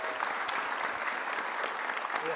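Brief, dense clapping from a seated audience at an Indonesian talk-show taping about debt, a continuous patter of many hands lasting a couple of seconds.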